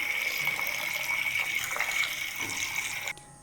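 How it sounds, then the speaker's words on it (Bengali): Tap water runs steadily into a sink while moringa drumsticks are washed by hand, a constant close splashing flow that cuts off abruptly near the end. "এখন ভালো করে সজনাটা ধুয়ে নিচ্ছি"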